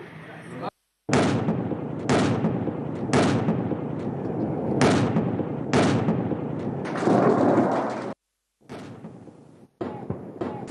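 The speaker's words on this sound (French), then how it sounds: "la précision des tirs avec diverses armes" Live-fire military tactical exercise with gunfire from various weapons: repeated loud sharp bursts and sustained volleys in rhythmic bouts, separated by brief abrupt gaps.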